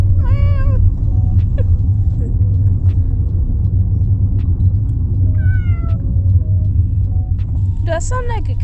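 A person imitates a cat, giving a string of high, wavering meows at the start, middle and end, with a steady low road rumble underneath throughout.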